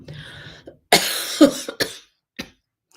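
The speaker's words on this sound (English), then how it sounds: "You will be hearing some coughs now and then." Several sharp coughs burst out one after another, close by, after a moment of soft talking.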